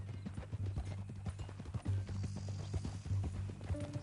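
A horse clip-clops in Red Dead Redemption 2, a quiet, soft, uneven patter of hooves at a walk, with low rumbling in the background.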